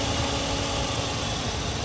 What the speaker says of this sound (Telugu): ఇంజిన్ చాలా స్మూత్గా ఉందండి.